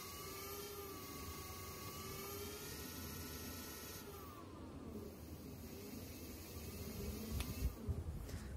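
Small electric motor driven by an Arduino throttle-to-PAS controller, whirring steadily with a rising tonal whine as it speeds up, then a few clicks and knocks near the end, with no talk.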